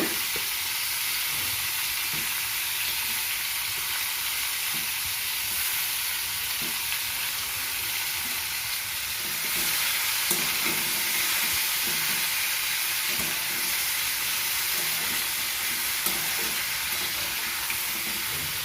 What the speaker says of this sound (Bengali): এখানে উচ্ছে ভাজাটা করব, তার জন্য তেল দিয়ে দিয়েছি